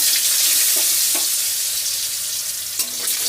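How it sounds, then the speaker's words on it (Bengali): Potatoes go into hot oil with fried cumin, a dense, even sizzle of frying that holds steady for the whole stretch, with a few light clinks of a utensil and no talk. "তো আমার এই যে জিরে ভাজা হয়ে গেছে, এবার আমি আলুগুলো ছেড়ে দিলাম।"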